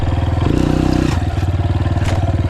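A Yamaha TTR230 dirt bike being ridden close by, its engine loud and throbbing with a brief rise in pitch and some clattering, with no voices.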